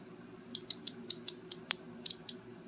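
A cheap Temu ratchet wrench clicks in a series of sharp, close, bright ticks, some spaced and some in quick bursts, with no one talking over them.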